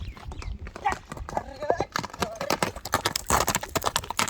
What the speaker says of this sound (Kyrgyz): 7 жаштагы ат экен, кара сүлүк